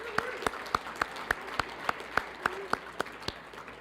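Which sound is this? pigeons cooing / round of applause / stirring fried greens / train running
round of applause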